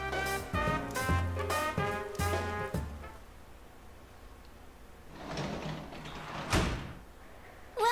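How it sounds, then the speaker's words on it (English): A big heavy door in Persona 4 Golden, heard as a series of deep, resonant thumps and clanks early on, followed by a sliding rumble and a final heavy thud, with no talk. "what is that big heavy door sound?"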